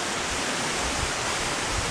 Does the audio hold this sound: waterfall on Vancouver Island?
yes